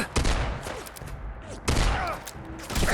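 Rapid bursts of gunfire in Fallout 4, loud, close, repeated volleys of shots with brief pauses between them.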